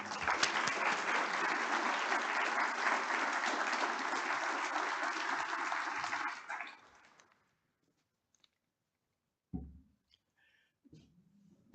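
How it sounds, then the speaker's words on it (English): An audience at a history lecture applauding to welcome speakers, a steady roomful of clapping that tapers off after about seven seconds, followed by near silence and a few small bumps and shuffles. "Let's give them a round of applause and a welcome"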